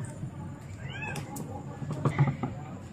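A cat gives a short meow or two, faint and brief, amid background talking and light household noise.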